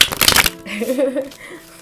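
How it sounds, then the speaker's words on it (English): A deck of tarot cards gets a quick A-B riffle shuffle, a dense burst of papery flutter in the first half second followed by softer card handling and light murmured talk. "I want to give it just like a little A-B shuffle real quick."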